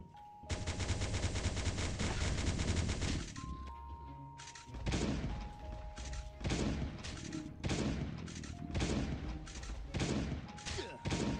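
Shotgun blasts in the zombie survival game Last Day on Earth: Survival, a heavy continuous burst followed by a run of loud, evenly spaced booming shots, close and dominant with no talk over them.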